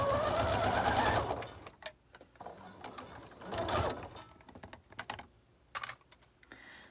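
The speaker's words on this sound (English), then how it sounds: "I'm going to slow my machine down just a little, because I have a tendency to go a little fast." A home sewing machine runs a close seam on a three-tier ruffle summer dress, a fast loud whirring burst that slows and stops, then shorter starts and pauses with small mechanical clicks.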